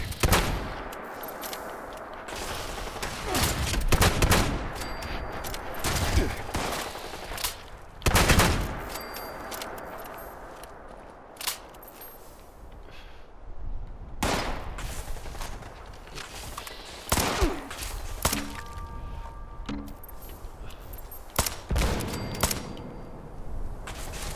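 Gunfire in the video game Fallout 76, loud irregular shots and short bursts scattered through the scene, some sharp single cracks and some rapid volleys with quieter gaps between.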